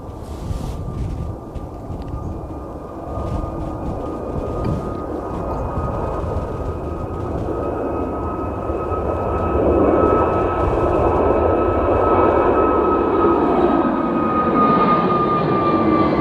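A fixed-wing airliner takes off at Edinburgh Airport, its engine roar broad and steady, swelling louder toward the end with a thin whining tone above it and some wind buffeting, no voices.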